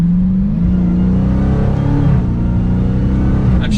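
A 2022 Dodge Charger SRT Hellcat Widebody accelerating hard through gear shifts, heard close and loud from inside. A deep, rising supercharged engine roar is broken by brief shift dips, then pulls again.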